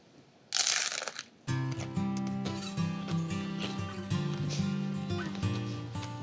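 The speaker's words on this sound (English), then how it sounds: "And listen to this crunch." One sharp, loud crunch comes from biting into a crispy chicken taco with salsa, onion and cilantro, lasting under a second, after which background music takes over and carries on steadily.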